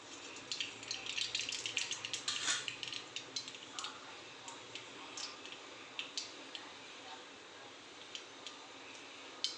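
Mustard seeds splutter in hot oil while tempering a spicy dal khichdi: a dense burst of crackling pops for the first few seconds, thinning to sparse, scattered ticks near and fairly quiet with no voice.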